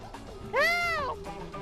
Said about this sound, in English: That was a peacock, if anybody didn't know.